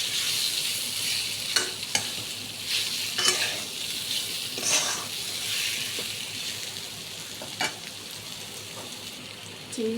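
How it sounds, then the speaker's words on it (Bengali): Fried pointed gourd is stirred into a potato masala in a pan, with a soft ongoing sizzle and scattered scraping stirs and light clinks close by. No voices are heard. "এবারে পটলটা যে ভেজে রেখেছিলাম সেটা দিয়ে দিচ্ছি। পটলটা দিয়ে নেড়ে ছেড়ে নেব একটু।"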